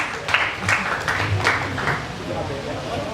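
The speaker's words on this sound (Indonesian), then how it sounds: "Tepuk tangan untuk kita semua." An audience at a university student public discussion and candidate debate in Indonesia claps in a brief, moderately loud burst, with voices and hall noise mixed in.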